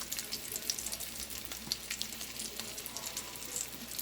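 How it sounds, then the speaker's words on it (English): A seasoned pot roast with rosemary and parsley browns in a stovetop pan, giving a steady, close crackling sizzle with scattered pops throughout. "we're just going to let it continue to brown"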